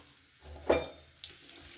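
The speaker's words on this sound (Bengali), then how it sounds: "তেলের মধ্যে দিয়ে দিচ্ছি তেজপাতা দিয়ে দিলাম দুটো শুকনো লঙ্কা আর দেব এক চামচ গোটা জিরে" Bay leaves, dried red chillies and whole cumin seeds sizzle in a little hot oil in a pan, a brief crackling burst rising over a low hiss, then settling.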